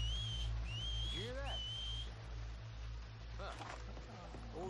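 A character whistles in Red Dead Redemption to distract a guard: a few short, rising whistled notes, then a longer held tone, heard over a steady low game ambience hum with faint talk.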